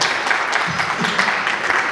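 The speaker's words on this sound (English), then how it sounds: "I need a round of applause for that." Applause from a congress audience, a steady dense wash of clapping filling the room for the whole stretch, fairly loud with no voices on top.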